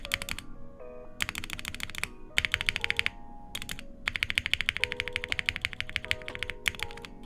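Bursts of keystrokes on a Sunsetter mechanical keyboard with a rattling spacebar, close and crisp, coming in quick clusters separated by short pauses.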